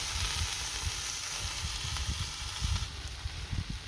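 A filled pancake fries in a pan after being flipped, giving a steady close sizzle throughout with faint crackles and scraping bumps.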